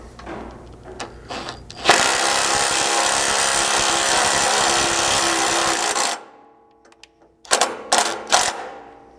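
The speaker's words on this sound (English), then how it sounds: "use a 3/4 socket to run in these 1/2 inch bolts" A power tool with a 3/4 socket runs 1/2 inch bolts into a skid plate system on a 100 Series Land Cruiser: short taps first, then about four seconds of loud continuous whirring, followed by scattered clicks and quick bursts.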